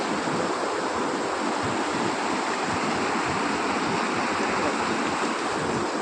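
Floodwater from a burst check dam pours into farm fields after heavy rain in Rahuri taluka, a loud continuous roaring rush with no break.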